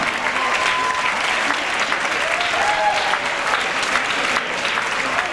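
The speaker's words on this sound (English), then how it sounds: "Let's have a nice round of applause for all of your semifinalists in Heat 1" Sustained applause from a ballroom dance championship audience fills the hall for the semifinalists of a heat, a steady dense wash of clapping with faint crowd murmur and a brief whistle underneath.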